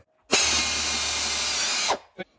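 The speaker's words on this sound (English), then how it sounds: "we're going to now drill the hole" A power drill bores a hole in a Kawasaki Z190 engine case, giving one loud, steady, close whirring burst of about one and a half seconds that stops abruptly and is followed by a short clack.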